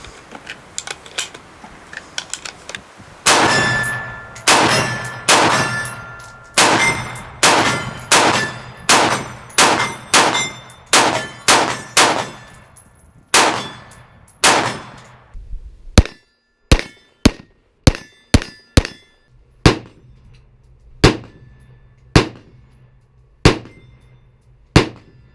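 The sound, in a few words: IWI Tavor rifle with Talon grips firing .223 ammunition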